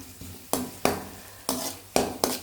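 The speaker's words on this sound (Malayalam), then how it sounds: "ഈ ചിക്കന് വറക്കുന്നുണ്ട്." Chicken pieces frying in a pan for chicken fried rice, with loud sizzling broken by five sharp stirring scrapes and clanks against the pan at a steady, uneven rhythm.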